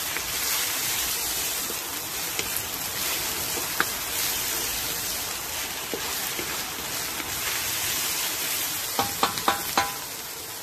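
Bullet chilies sizzle and fry in a pan for a courgette, aubergine and okra curry, a steady close hiss with a few sharp scrapes and clinks of stirring near the end, no speech.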